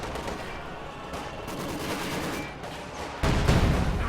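Anti-tank rockets and gunfire from a Panzerschreck squad and Raketenwerfer aimed at an IS-2 tank in a war strategy game: a dense, continuous crackle of shots that grows louder and heavier in the last second, with no talk.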